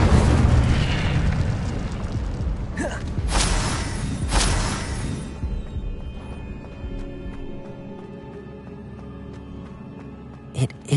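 A fire spell cast in the Hogwarts Legacy game: loud whooshing bursts of flame with a roaring, crackling blast in the first seconds, fading into a quieter magical hum and a sharp pop near the end.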